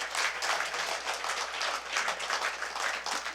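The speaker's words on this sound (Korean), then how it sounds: "박수 한번 보내주십시오" An audience at a lecture claps for an invited speaker, a steady mid-distance round of many hands with a slightly pulsing rhythm that carries on throughout without any talking.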